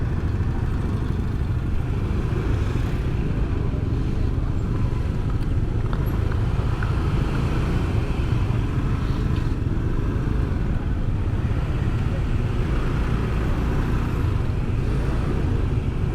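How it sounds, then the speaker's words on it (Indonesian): Congested city street traffic in Malang around Eid holidays, cars and motorcycles idling and creeping with continuous engine drone and road noise, no talk. "Nah ini macet teman-teman."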